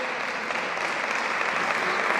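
Steady, dense applause from an audience at a school exchange event between Larraina and Pau, sustained and fairly loud throughout with no pauses.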